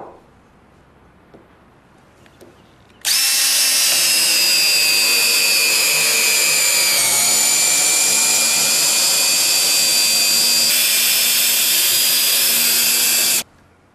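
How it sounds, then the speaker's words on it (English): A power tool drives a SPAX screw into wood with one long, steady high-pitched whine lasting about ten seconds, loud and close, with a slight pitch dip midway and no talking. "the wood doesn't cut or split when turning the screw in"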